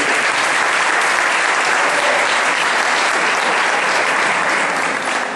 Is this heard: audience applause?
yes